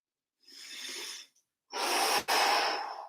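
Two long, breathy exhales during a stretching exercise at home, the first softer and the second louder and fuller with a brief catch in the middle, close to the mic with no talking.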